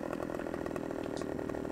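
A Stihl chainsaw running steadily in Farming Simulator 15, a continuous buzzing drone with a rapid, even rattle that stays loud and close throughout, with no other sounds over it.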